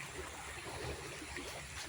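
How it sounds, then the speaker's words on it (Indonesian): Rushing water from a swollen, overflowing river during renewed rain, a steady moderate wash of flowing water that carries on without a break and with no voices. "Hujan mulai kembali mengguyur hingga sungai kembali meluap"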